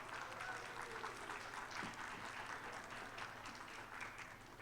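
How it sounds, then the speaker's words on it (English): Steady applause fills a candidate forum for the LA Unified Board District 5 race, dense clapping from an indoor audience holding at an even level throughout without a break. "Let's give them both a round of applause."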